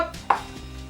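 Rice being stirred into a taco mixture for freezer meals, a single sharp scrape of the spoon against the pot over a low, steady background, with no talking.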